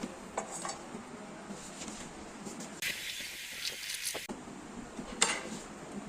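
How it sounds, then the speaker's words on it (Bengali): A PVC electrical wiring channel being cut, with a steady rasping burst of sawing in the middle and lighter clicks and handling noises around it, close and fairly quiet. "দাগ দেওয়া হয়ে গেলে আমরা এটা কাটবো।"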